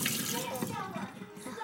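Water runs from a tap in a steady, close, hissing rush that lasts the whole moment, with faint voices in the background.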